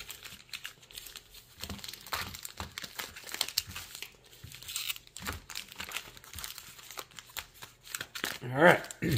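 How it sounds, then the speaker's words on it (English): Someone shuffles packs of Commander Masters trading cards up close, making soft crinkling and riffling sounds throughout, with quiet talking in the background. "So I'm just going to do a little shuffle."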